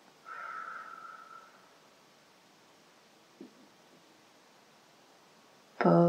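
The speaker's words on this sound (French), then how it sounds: "Expiration." A slow, soft exhalation during a guided relaxation breathing exercise, a gentle airy breath near the start that fades away, followed by quiet, a tiny click, and a brief louder rustle at the end.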